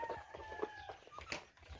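Chickens cluck and call in short bursts at close range, with a few higher squawks mixed in over a busy farmyard background.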